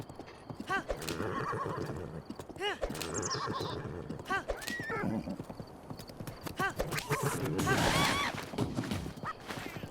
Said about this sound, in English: What is wrong with this horse? This is a bloodthirsty maniac of a horse.